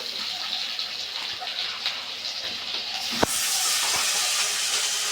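Ginger paste hits hot oil in a pan while a Bengali tangra fish curry is being cooked. A soft hiss rises to a sudden louder, sustained sizzle that stays strong and close to the end.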